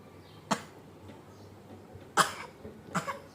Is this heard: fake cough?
yes